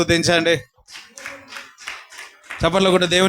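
A church congregation at a Sunday service claps together in praise, bursts of rhythmic clapping mixed with singing and a voice speaking over it.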